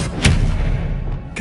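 Hogwarts Legacy's Expelliarmus disarming spell goes off as a sudden loud thump and crack with a rumbling tail, followed by a brief sweeping magical tone.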